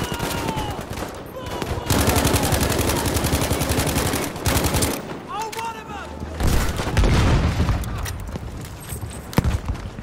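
Battlefield V combat erupts with rapid bursts of automatic gunfire and a heavy booming blast from a grenade, all loud and close, while players talk over the chaos.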